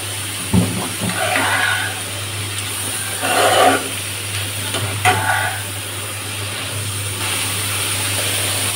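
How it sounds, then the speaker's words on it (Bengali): Helencha greens fry in a pan with a steady sizzle and a background hum, broken by a few separate bursts of stirring and scraping. "এই যে নেড়ে চেড়ে নেব"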